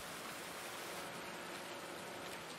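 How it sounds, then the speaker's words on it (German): Steady rain falls in the Farming Simulator 19 video game, a soft, even hiss of pouring water, quiet and unbroken, with no voices. "Und es regnet immer noch."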